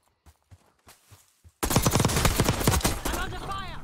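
Rapid automatic gunfire bursts loudly in Call of Duty Warzone (Black Ops 6 era), preceded by a few scattered distant single shots, then a dense, sustained close volley of rattling rounds.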